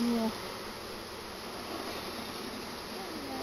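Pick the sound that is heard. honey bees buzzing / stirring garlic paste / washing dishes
honey bees buzzing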